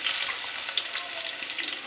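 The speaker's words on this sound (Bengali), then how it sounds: "তো আমি এখন কড়াইটাতে পেঁয়াজ কুচি দিয়ে দেব। কড়াইটা গরম হয়েছে" Chopped onions sizzle steadily in hot oil in a heated wok for a mezbani beef curry, a close, continuous crackling fry with small pops and no voices.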